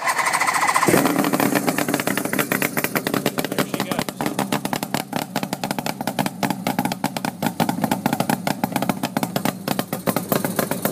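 A Suzuki GT750 three-cylinder two-stroke motorcycle engine cranks on the electric starter and catches within a second, settling into a loud, steady, close idle with rapid popping exhaust pulses.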